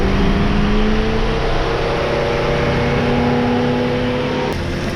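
A 2004 Mercedes-Benz E320 wagon, W211, idles steadily with a fresh water pump and EGR work, a constant mechanical hum and whir with a steady tonal drone and a brief tick near the end, no voices.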